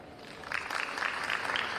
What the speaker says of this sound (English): Round of applause from the packed audience.